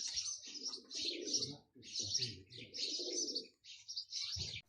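Racing pigeons coo at the loft on a race day, giving repeated soft throaty coos close by, with chirpy high calls layered over them and short pauses between bursts.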